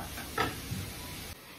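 Potatoes, onion and capsicum cook in a pan, giving a soft steady sizzle with a brief brighter stir or scrape near the start, faint and close, with no talking.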